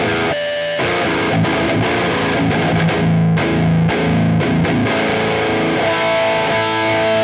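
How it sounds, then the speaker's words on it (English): Electric guitar driven through a Klon-style overdrive pedal with tone and level pushed, playing steady overdriven chords and notes for several seconds at full, even loudness, with no voices. "The famed Klon pedal."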